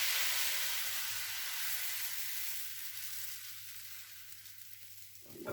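Gluten-free crêpe batter sizzles in a hot pan, a dense, steady hiss that is loud at first and gradually eases, heard close with no talk.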